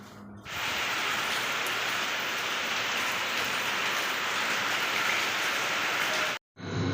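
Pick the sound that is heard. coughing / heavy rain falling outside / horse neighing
heavy rain falling outside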